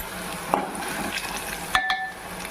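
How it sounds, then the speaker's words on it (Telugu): Curry leaves dropped into a hot pan while making bitter gourd karam podi give a soft frying hiss, broken by a few sharp utensil clinks against the pan. "కరివేపాకు వేసుకుంటున్నానండి."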